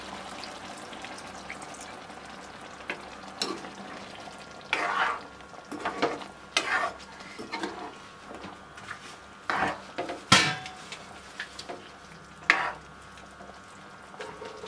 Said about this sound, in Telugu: ఇప్పుడు కొద్దిగా నీళ్లు పోస్తున్నాను నేను